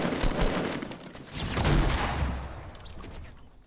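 Gunfire in Fortnite Battle Royale, rapid bursts of automatic shots rattling continuously with dense cracks and a low booming body, loud and close, swelling in two long volleys.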